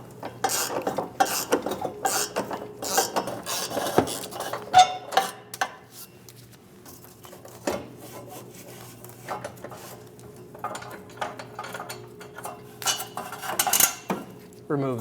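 Metal tools and hardware clink and rattle up close while the fuel tank strap bolt comes off a 2016-2025 Chevrolet Malibu 1.5L, with irregular clattering taps, scrapes and short pauses over about fifteen seconds.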